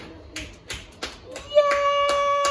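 Hands clapping for a small girl at home, a few sharp claps spaced out near the mic, with adult voices talking and a sustained tone entering partway through.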